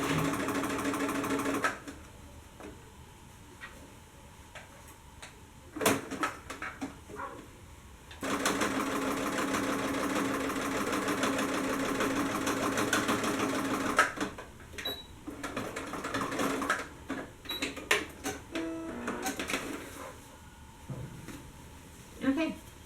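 Sewing machine stitching fabric for a pair of paperbag pants, running in several bursts of steady rapid whirring with short pauses between runs.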